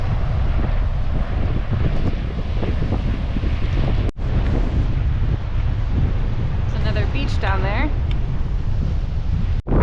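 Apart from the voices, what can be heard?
strong coastal wind blowing on the microphone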